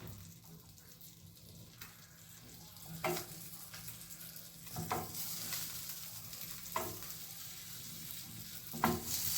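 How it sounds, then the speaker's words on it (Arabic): Potatoes and vegetables for moussaka sizzle and fry steadily in a pan, a continuous crackling hiss with occasional louder pops and spatters standing out, close and alone without any talking. "هنبدأ نشوي الخضار بتاعنا كله. هنبدأ بالبطاطس زي ما حضراتكم شايفين."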